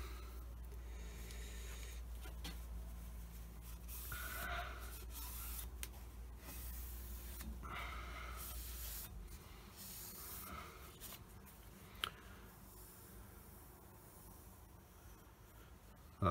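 Steady soft rubbing of a cloth wiping spirit off a printing plate on an Elliot 14S press, quiet and continuous with faint swishing strokes and a low background hum.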